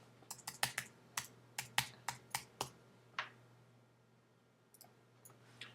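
Keys on a computer keyboard are struck in a quick run of about a dozen crisp, fairly quiet taps, then a short pause and a few lighter clicks, with no talking.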